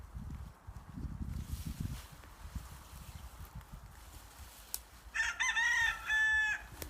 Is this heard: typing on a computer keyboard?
no